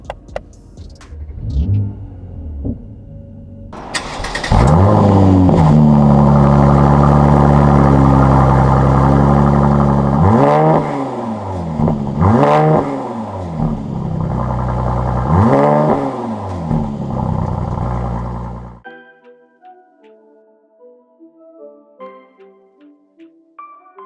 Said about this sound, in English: put your foot on the brake and start up the car